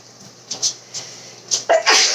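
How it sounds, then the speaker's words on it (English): A single person sneezes once, close and loud, with a sharp burst near the end, after a few small breathy sounds and sniffs in an otherwise quiet room. "The feathers in my hat are making me sneeze."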